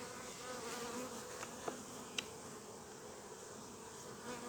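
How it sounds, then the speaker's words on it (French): Honey bees buzz around a hive's landing board, a soft continuous swarm hum with a couple of brief louder passes close by, no voices. "les abeilles sur la planche d'envol"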